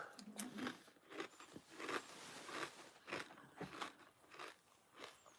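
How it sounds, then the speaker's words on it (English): Crunchy potato chips are eaten close to the microphone, giving a quiet, irregular run of crisp bites and crunching chews spread across several seconds. "Folks, you're going to have to listen to some crunchy chips."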